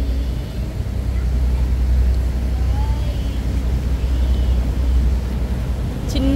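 A ferry on Sydney Harbour gives a loud, constant low engine rumble mixed with wind and water noise, steady from start to finish, with a faint chirp near the end.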